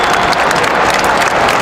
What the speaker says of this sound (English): The applause is for Lewis Hall